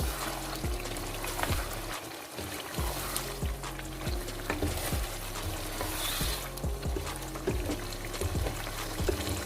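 Aloo gosht being stirred and mixed in a pan, with repeated scraping strokes of a spoon over a steady frying sizzle, close and moderately loud throughout.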